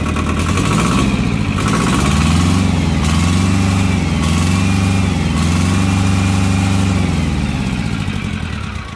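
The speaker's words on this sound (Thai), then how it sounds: "สองสูบแรงดีครับ สองสูบสิบสามแรงมิซูบิชิ" A two-cylinder 13 hp Mitsubishi tractor engine idles steadily at close range, its low, even chugging rhythm holding throughout with a slight rise and fall in pace and no voices over it.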